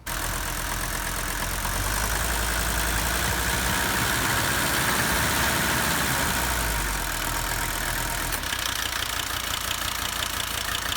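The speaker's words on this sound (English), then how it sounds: "we have some noise in this, like something metal with metal touching, and it's the air conditioning pump right in the back here" A car engine idles with a metallic rattle from an air conditioning pump whose belt is out of place, a continuous close rumbling drone with a fine knocking clatter running through it.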